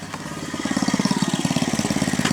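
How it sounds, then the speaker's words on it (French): A restored motorcycle engine runs nearby, now firing properly, with a rapid, even, loud exhaust pulse that steadies after a brief uneven start. "je voulais juste voir si le moteur il pétait bien"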